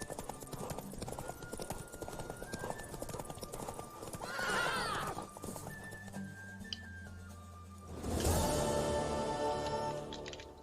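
A horse in The Witcher 3 gallops with steady clip-clop hoofbeats, then lets out a loud whinny around the middle and another strong neigh near the end, over a layered game soundscape.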